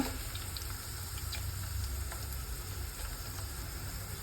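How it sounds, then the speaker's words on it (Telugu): Cut okra (bhindi) fries in a pan for a Telugu-style okra stir-fry, giving a steady, fairly loud hiss with a faint crackle and no voices. "బెండకాయ వేపుడు కోసం బెండకాయలు వేస్తున్నా."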